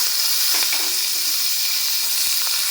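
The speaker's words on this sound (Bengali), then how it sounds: "পেঁয়াজটা ভালো করে কিন্তু ভেজে নিতে হবে" Onion paste frying in oil with a dried red chilli, bay leaf, cardamom, cinnamon and black pepper for doi katla, giving a steady close sizzle with a few faint stirring scrapes and no talk.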